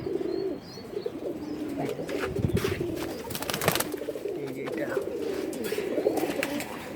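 Male pankhi pigeons and other good-bloodline cock pigeons coo in low, throaty, rolling calls that overlap continuously at close range, with faint chirps and background noise.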